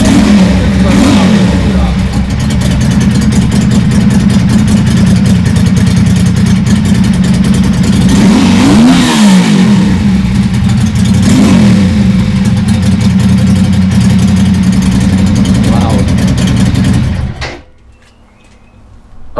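A Ducati Monster cafe racer fitted with a QD exhaust revs hard at close range. The sound is very loud, with a rumbling idle broken by repeated blips of rising throttle. It cuts off abruptly near the end, leaving quiet.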